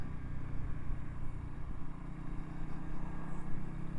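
A motorcycle engine rumbles on the move during a ride, a loud, close drone with slight swells in revs across a few seconds and no voices.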